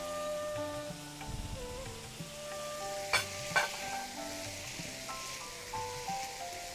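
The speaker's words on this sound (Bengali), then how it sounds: "এখানের মধ্যে আমি স্লাইস রসুনটা দিয়ে দিই, পেঁয়াজ কলিটা দিয়ে দিই" Sliced garlic and chopped onion fry in a pan with a steady, quiet sizzle, with a few sharper spatula scrapes and stirring clinks, while faint background music plays.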